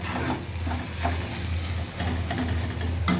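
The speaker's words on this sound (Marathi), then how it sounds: "दोन मिनिट होऊन गेले तापले व्यवस्थित आपला जवळा फ्राय झालेला आहे" Dried jawla shrimp frying in a pan, a continuous close sizzle and hiss with a few spatula scrapes and a low hum underneath, no talking.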